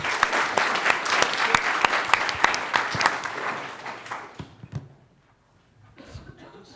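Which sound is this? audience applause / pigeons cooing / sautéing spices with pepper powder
audience applause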